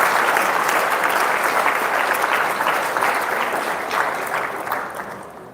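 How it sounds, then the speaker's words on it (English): Audience applause at a devotional kirtan and katha gathering for the Nityananda Trayodashi festival, a steady, dense wash of clapping from a large crowd that holds for several seconds before slowly tapering. "please give him a big round of applause"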